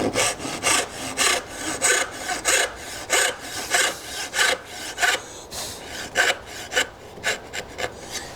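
A hand saw cuts a tenon in wood, producing a close, rhythmic series of rasping back-and-forth strokes, each stroke a distinct burst with short pauses, quickening toward the end.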